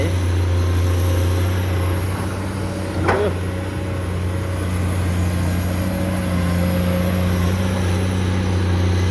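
A Komatsu PC200-8MO excavator clearing land, its diesel engine holding a loud, steady low drone throughout, with a brief sharp higher sweep near the start and no talk.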